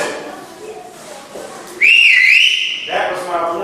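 A person whistles a single sharp, rising-then-falling call, loud and close, for about a second, cutting in after quiet talk in a room.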